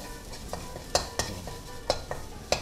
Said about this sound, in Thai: แล้วก็ผัดนะครับ